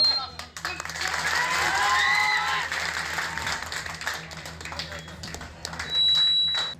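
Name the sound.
supporters applauding a Congress candidate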